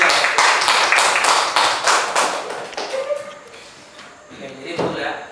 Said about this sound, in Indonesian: tepuk tangan untuk diri kalian masing-masing karena sudah berusaha